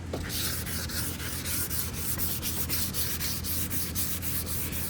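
Sandpaper rubs steadily across a surface in a garage, a continuous close-up scratchy hiss with rhythmic back-and-forth strokes and no voices.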